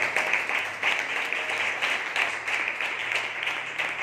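A church congregation at a Sunday service claps together, rhythmic applause from many hands repeating steadily at moderate loudness throughout, with a faint voice underneath.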